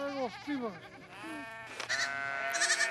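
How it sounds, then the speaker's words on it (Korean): Sheep and goats in Mongolia bleat as they are let out to pasture, with several wavering calls close by, followed by rustling and wind-like noise. "허기진 배를 채우고 싶은 마음에 양과 염소들이 다투어 풀을 찾아갑니다."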